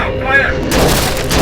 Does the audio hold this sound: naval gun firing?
yes